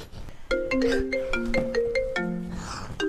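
A melodic electronic phone ringtone plays a repeating pattern of bright tones, loud and close, with no talking.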